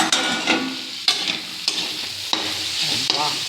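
Capsicum pieces sizzle in a hot pan while a spoon scrapes and stirs them in quick, regular strokes, loud and close, the frying hiss continuing steadily underneath.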